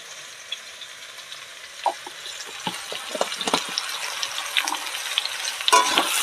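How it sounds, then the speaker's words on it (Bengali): Vegetables frying in a pan with salt and turmeric, stirred in scattered scraping strokes over a steady sizzle that grows busier and louder toward the end. "লবণ হলুদ দিয়ে সুন্দর করে ভালো করে নেড়ে চেড়ে সবজিগুলো আরও সুন্দর করে ভাজবো"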